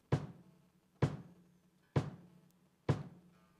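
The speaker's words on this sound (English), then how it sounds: "That is the sound of the kick drum." Four single kick drum hits during a live sound check, evenly spaced about a second apart, each a deep close thump with a short decay and silence between.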